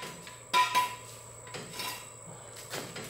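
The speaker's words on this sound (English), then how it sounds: "now putting the axle stands on and the jack stands on." Metal axle stands and jack stands are set down under a car, giving a few sharp clanks and scrapes spaced a second or so apart over a faint background hum, with no talking.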